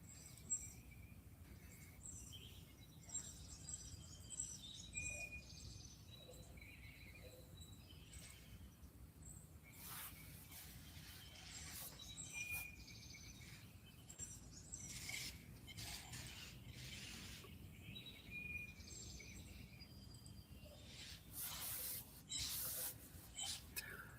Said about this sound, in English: They can just listen to the birds